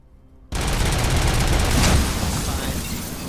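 Rapid sustained automatic turret gunfire in RoboCop: Rogue City, bursting in suddenly after a quiet moment and hammering loudly and continuously to the end.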